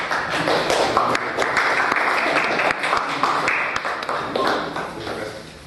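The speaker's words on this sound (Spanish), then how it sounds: "Un aplauso, por favor." A seminar audience breaks into applause, a scattered, uneven patter of hand claps with sharp individual taps, moderately loud and continuing for several seconds.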